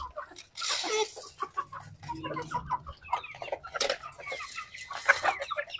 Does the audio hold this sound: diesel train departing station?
no